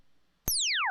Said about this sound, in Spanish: ¿por qué suena así nuestro disparo?